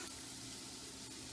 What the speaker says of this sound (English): After the light browning of the garlics and onions